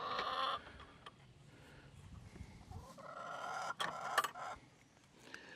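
Backyard hens cluck and murmur softly beside a hay-filled nesting box holding decoy eggs, with low, intermittent calls and light rustling close by.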